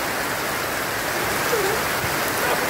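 Steady rain falls in a village, a continuous close hiss of drops on surfaces with no break and no voices.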